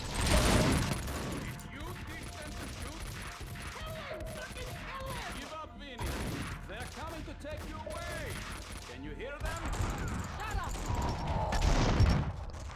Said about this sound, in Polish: I na dole jeszcze tutaj jeden do mnie strzela.